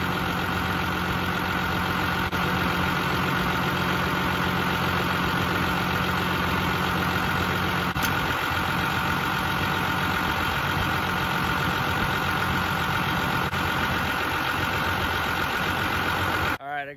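A farm tractor engine idles steadily and continuously at close range while topped up at a fuel barrel, a constant low rumble with no change in pace.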